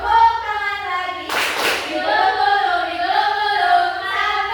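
Hands clap during a classroom teaching song, one short sharp burst of clapping cutting through a sung voice that continues around it.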